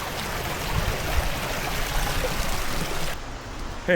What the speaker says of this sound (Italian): la cascata è giù.